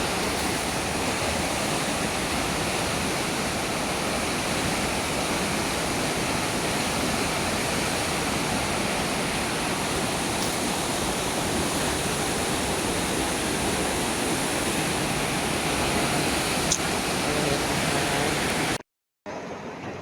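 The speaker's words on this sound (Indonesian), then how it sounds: "Kondisi air Lubuk Minturun yang tiba-tiba penambahan debit air sekitar 50 sampai 80" Swollen river at Lubuk Minturun rushes with a loud, unbroken roar after a sudden rise in flow, steady and close for the whole stretch, cutting out briefly near the end.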